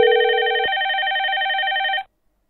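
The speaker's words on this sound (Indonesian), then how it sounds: "ini sudah incoming call-nya sudah masuk ya. Dan ini dari Zoiper sendiri sudah ringing." An incoming call rings on a Zoiper softphone as a bright, pulsing electronic tone with a lower tone joining at the start, sounding alone for about two seconds before cutting off abruptly.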